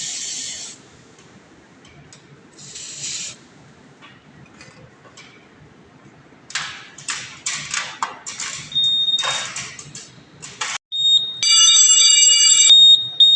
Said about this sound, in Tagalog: Alarm na yung zone 2